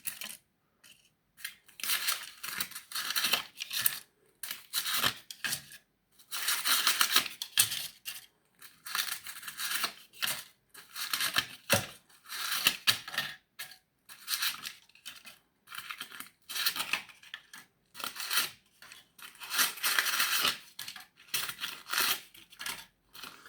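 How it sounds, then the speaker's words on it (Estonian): Paper muffin liners are pushed one by one into a twelve-cup muffin tin, making bursts of crisp rustling and light tinny clatter close by, with short pauses between, and nobody talking. "Ja võtame siit vormid, need paberitest. Topime ka sisse."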